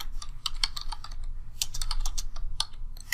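Computer keyboard typing up close, crisp irregular key clicks in quick runs over a low background hum, with no talking.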